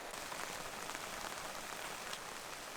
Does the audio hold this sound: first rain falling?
yes